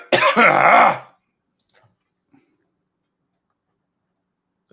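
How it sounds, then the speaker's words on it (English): A single loud, close cough from a man, followed by near silence with a few faint ticks. "there goes the whole coughing thing again."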